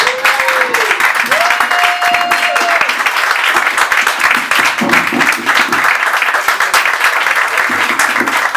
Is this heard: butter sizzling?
no